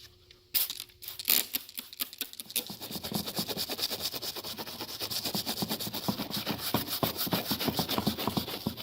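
Rag rubbing and wiping sticky grime off the airbag cover of a leather steering wheel from a WJ Jeep Grand Cherokee, quiet close-up scrubbing strokes in a fast, steady rhythm after a few initial taps.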